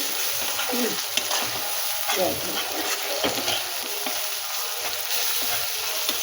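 Masala of tomato, salt and chilli for a shankar fish jhal sizzles steadily in a pan while a spoon stirs it with soft, uneven scraping throughout.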